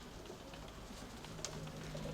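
A pigeon coos faintly outdoors among a flock kept by pigeon fanciers, a soft low call set against steady background hiss, with no talk.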